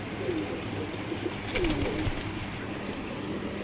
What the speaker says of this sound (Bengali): ফ্লাই করা কবুতরগুলো আসলে খাঁচায় ভিডিও করলে প্রচুর ছটফট করে